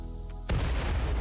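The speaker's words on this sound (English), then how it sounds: "Oh no, a bit of an explosion we're going to generate" A loud blast of detonated charges in the colony-survival game Rimworld, a sudden heavy boom that cuts in over a low hum and rolls on as a rumbling roar.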